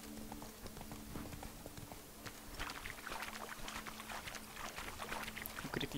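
Horse hooves clip-clopping steadily from Roach, Geralt's horse in The Witcher 3: Blood and Wine, a continuous trotting rhythm at moderate loudness over a steady game-ambience hum, with no speech.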